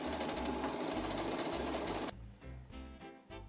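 A sewing machine with a regular presser foot runs a half-inch seam along the edges of a gathered child's summer skirt. A loud steady run is followed by several shorter stop-start bursts, with no talking.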